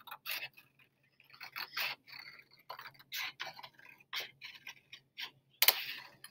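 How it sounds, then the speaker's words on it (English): Quiet, crisp snipping and rustling bursts come in irregular bunches with short pauses between them, close by, with no talking. "I'm going to take my scissors now, and I'm going to very carefully cut out the pumpkin."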